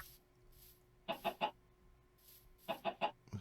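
Video game chickens in a Minecraft modpack clucking in two quick bursts of three to four clucks each, clear and close over a quiet background.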